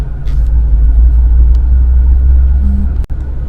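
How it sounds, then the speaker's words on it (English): Continuous heavy traffic rumble on a busy road near Chapala, Mexico, a loud steady low drone from within a moving vehicle with a short tonal whine and a sharp click near the end. "But all this traffic"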